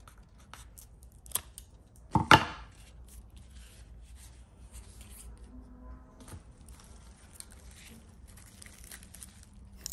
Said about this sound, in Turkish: Böyle bir durumda bütün kökleri keserek orkidenin gövde kısmını iyice temizliyoruz.